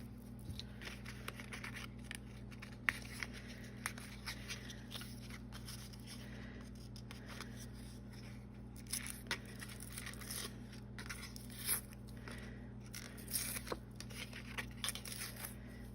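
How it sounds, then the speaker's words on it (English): Paper is ripped off playing cards in quiet, scattered tearing and crinkling bursts, close but soft, over a low steady hum. "So what I want to do now is rip the rest of the paper off."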